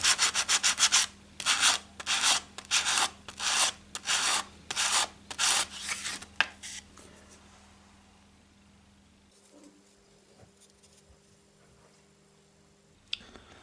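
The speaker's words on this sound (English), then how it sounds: "you can use something between 300 to 600 grit sandpaper and just sand down it a little bit" A kitchen cabinet cornice moulding edge is hand-sanded with 300 to 600 grit sandpaper in about a dozen quick, rhythmic rasping strokes, close up, before the work falls quiet.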